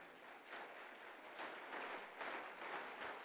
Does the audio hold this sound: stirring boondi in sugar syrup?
no